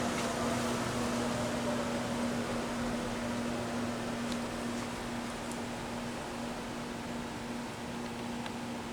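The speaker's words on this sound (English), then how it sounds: "It's a nice running machine, still winding down." A Glebar TF-9DHD infeed/throughfeed centerless grinder spins down after shutdown, giving a steady low hum with a constant tonal whine and broadband hiss that holds at an even, moderate level throughout.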